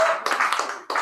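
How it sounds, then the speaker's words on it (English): Audience at an open mic poetry night at Cush Cafe claps for a performer, a short burst of hand claps that breaks off briefly and then resumes, moderately loud in a small room. "Let's give a warm round of applause for Mr. Kit Chow."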